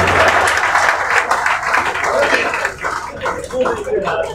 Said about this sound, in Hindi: आप लोग जोरदार तालियां बजाएं।